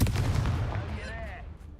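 A Confringo fire spell blasts in the Hogwarts Legacy video game: a loud, booming burst with a low rumble that fades over under two seconds, with a brief rising whoosh near the end.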